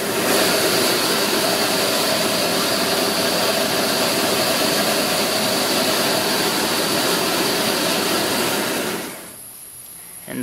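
A cast iron 18-tip jet duck burner runs at full flame with a loud, steady, close-up roar that is broad and constant for most of the stretch, then drops off sharply near the end, with no talk over it.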